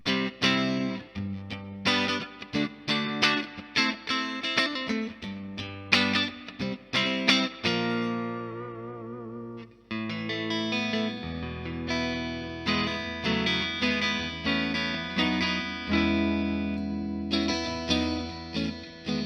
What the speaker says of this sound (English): This is my clean tone, and I'm just using the 63 spring effect on the Helix effects.